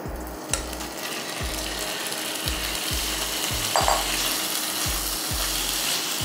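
Chicken frying in hot mustard oil for chicken chaat gives a continuous loud sizzling hiss, cut by a regular series of low thuds and clicks from the pan about twice a second.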